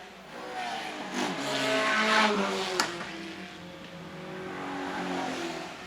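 Vintage race car at the Pittsburgh Vintage Grand Prix revs and passes while heading into turn 1, engine pitch rising and falling with a sharp gear-change blip, fairly close and loud.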